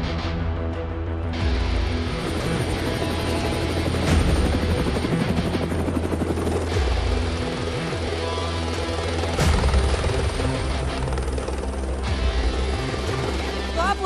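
A helicopter flying over Rajasthan and landing in Jaipur makes a loud, continuous rotor thrum and turbine whine throughout, with voices speaking over it.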